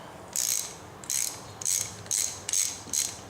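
Part of a Craftsman lawnmower's Briggs & Stratton carburetor being unscrewed, producing six quick ratcheting clicks in an even rhythm, close and crisp against a quiet background.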